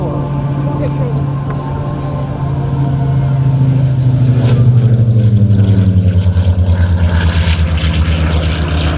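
Loud piston-engine drone of an SB2C-5 Helldiver propeller warbird making a low pass at an air show, a steady roar whose pitch sweeps downward as it goes by, with a PA announcer talking over it.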